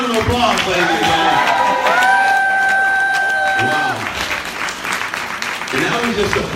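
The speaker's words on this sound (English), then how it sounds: "Give him a round of applause, ladies and gentlemen." Audience applause fills a room after a health talk on the BulaFIT system and ketogenic diet, a steady wash of many hands clapping with scattered whoops and cheers, loud and sustained, with voices calling out over it.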